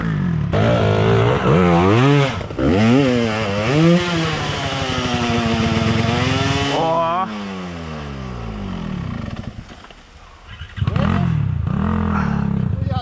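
An off-road motorcycle engine revs hard on a difficult trail, loud and close, its pitch climbing and falling in repeated bursts. The revs ease briefly near the end, then surge again.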